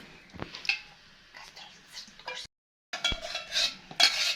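Sugar and eggs are stirred by hand in a bowl for a pie batter, giving close, scraping, clinking strokes in irregular bursts with a brief pause midway and soft whispered talk over them.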